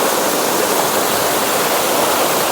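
A waterfall and stream in a Konkan village pour in a loud, unbroken broadband rush of water that stays constant from start to finish, close to the listener.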